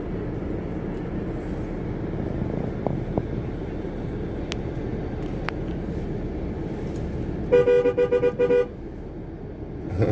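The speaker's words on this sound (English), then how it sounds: "We'll hang out here and we'll let the trucks go by." Trucks of a passing convoy rumble by on a Nashville road, with a quick burst of repeated horn honks standing out near the end over the steady traffic noise, plus a couple of brief higher tones earlier.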